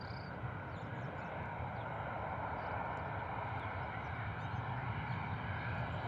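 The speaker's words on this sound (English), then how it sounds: "Ryanair coming in from Alicante. Whoa, steady." A Ryanair airliner arriving from Alicante to land at Bristol Airport in wet, stormy weather, heard as a steady, broad engine roar mixed with rain and wind noise, fairly distant and unbroken throughout.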